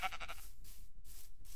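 Sheep in Minecraft bleat in short, wavering cries, two or three quick bleats repeating, clear and fairly close with no talk.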